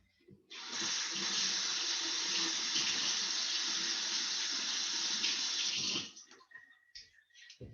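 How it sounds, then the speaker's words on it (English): Hands are washed under a running kitchen-style tap, a steady loud rush of water that starts abruptly, runs for about five seconds and cuts off, followed by faint clatter and drips. "I'm going to go wash my hands really quickly."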